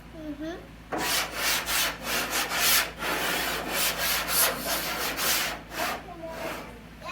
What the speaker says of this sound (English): the sanding block was too noisy